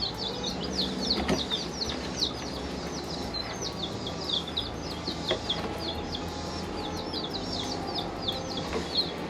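A young straight-run batch of Polish chickens at a home setup gives off a continuous flurry of high, rapid chirps and peeps over a soft background hum.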